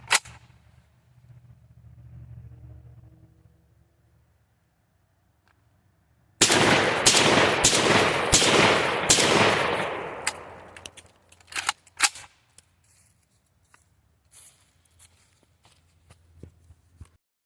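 A JTS M12AK 12 gauge shotgun fires at an outdoor range, a rapid string of loud close blasts for several seconds, then scattered clicks and handling noises after quiet wind.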